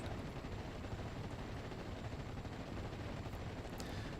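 Infantry gunfire in a World War II strategy game, German Fallschirmjager troops firing on an infantry squad: a dense, continuous rattle of rifle and machine gun shots, loud and unbroken throughout, with no speech.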